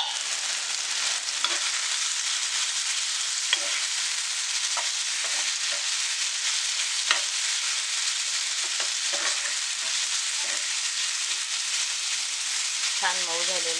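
Onion and tomato sizzle and fry in a pan on medium heat for a Maharashtrian potato and pea curry, a steady close hiss with occasional soft stirring clicks and a brief tonal sound near the end.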